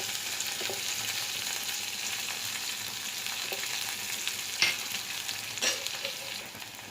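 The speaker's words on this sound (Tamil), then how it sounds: "வெங்காயம் நல்லா வதங்கணும்" Freshly added onions frying in a pan for a lunchbox recipe, a constant close sizzle with a few spoon scrapes and knocks toward the end.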